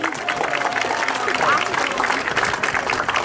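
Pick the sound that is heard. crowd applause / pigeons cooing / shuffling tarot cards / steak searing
crowd applause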